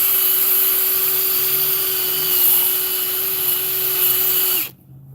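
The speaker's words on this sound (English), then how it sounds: "this 500 grit is the most abrasive. So this is really gonna scuff up your headlight." A Subaru headlight is power-sanded with coarse 500 grit abrasive, a steady loud whine and broadband hiss running continuously before cutting off abruptly near the end.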